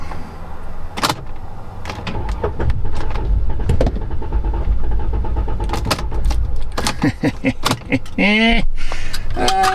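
A Chrysler 200 that has lost throttle and stalled is switched off, with clicks, a key jingle and door or window motor sounds close by, engine rumble fading, and a voice speaking briefly near the end.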